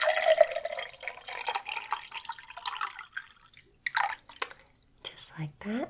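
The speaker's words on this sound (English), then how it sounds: "Go ahead and open up a bottle for you and just pour it into a glass here." Bottled water poured into a glass during a quiet nail salon roleplay, soft trickling and dripping splashes heard close up, with brief gaps and a soft voice speaking around them.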